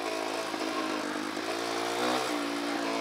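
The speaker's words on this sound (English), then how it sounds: "The important thing is keep the engine revving, man." Dirt bike engine revving on a downhill desert trail in Red Rock Canyon, a continuous buzzing drone with rising and falling pitch and a swell toward the end.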